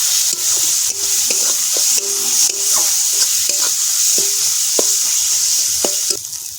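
Ground spices sizzle and fry in hot oil while being stirred for a Bengali Aila fish curry, a continuous close hiss with scattered clinks and scrapes of the spoon against the pan.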